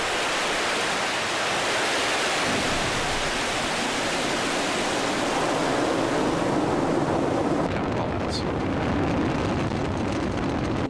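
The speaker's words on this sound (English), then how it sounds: "We have had successful liftoff of Falcon 9 carrying Zuma." A SpaceX Falcon 9 rocket lifts off carrying the Zuma satellite, producing a steady, dense broadband roar like rushing surf that fills the whole stretch at constant loudness, with no voices.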